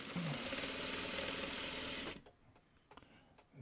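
A sewing machine stitching fabric scraps into quilt strips runs steadily and fairly close for about two seconds, a fast even mechanical whir, then stops, leaving faint clicks and handling noises.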